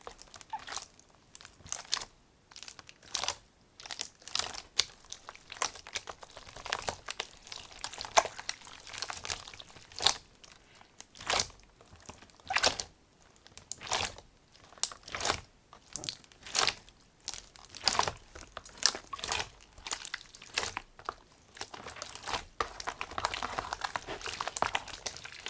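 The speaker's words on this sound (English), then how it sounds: "we're going to start playing with it. You guys can hear the ASMR." Giant pink jiggly slime being squished and played with up close, giving dense crackling, crunchy and crinkly squelches in an irregular rhythm, with no talking.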